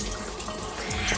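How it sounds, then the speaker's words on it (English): Water runs from a kitchen tap into a sink as chickpeas are rinsed, a steady close splashing and trickling stream that lasts throughout without pause. "I'm gonna strain them and I'm gonna rinse them again as well"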